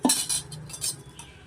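Byadgi chillies roasting in a pan with a metal spoon stirring, bright scraping and clinking strokes in quick, uneven succession, close up with no talk.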